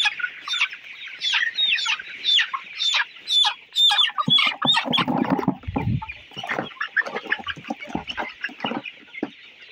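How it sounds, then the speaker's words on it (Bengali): Three 29-day-old colour bird chickens on a broiler farm are held for weighing and cluck and squawk loudly and repeatedly at close range in agitated bursts, with no talk over them. "আমাদের দেখতে পাচ্ছেন 3টা মুরগি ধরা হয়ে গেছে।"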